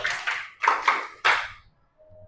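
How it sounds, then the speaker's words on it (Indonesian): A classroom of students claps in unison during a counting clap game, a quick series of sharp, fairly close hand claps in two tight groups, followed by a brief quiet gap. "Tepuk 4, bukan tepuk 5."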